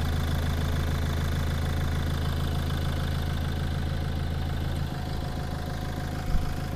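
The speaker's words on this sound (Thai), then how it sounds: "นี่คือเครื่องของเจ้า Toyota" The engine of a 2021 Toyota Revo Single pickup idles steadily with a low, even rumble and light mechanical clatter, heard up close with the hood open and no talk over it.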